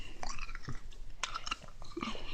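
Spicy Buldak fire noodles being eaten up close, with soft wet chewing and slurping bites in quick irregular succession over faint background noise.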